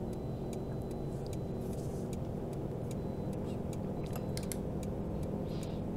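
A Volkswagen Golf 7 R Line engine held at half throttle in Euro Truck Simulator 2 gives a steady, low, even drone throughout, overlaid by faint, regular ticking clicks.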